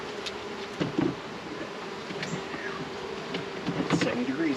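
Honey bees buzz around an open hive during a honey harvest. A faint, steady droning hum with a few louder buzzes as individual bees pass close by, and some quiet background noise.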